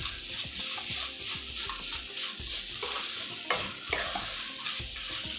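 Sautéing in a pan with sesame oil over onion and coconut for a Tamil festival dish: steady sizzling frying with repeated close scraping stirs of a spoon, no voices.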